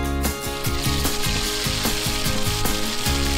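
A ground paste of shallot, garlic and green chili sautés in a pan, a loud bright sizzle broken by rapid rhythmic spatula scrapes and stirs, close and continuous without speech.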